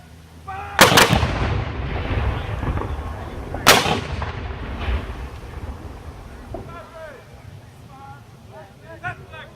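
Two heavy artillery cannon blasts from a battery at an outdoor Civil War battle anniversary demonstration in Corinth, several seconds apart, each a sharp boom trailing into rumbling echo, with wind noise and faint distant voices afterward.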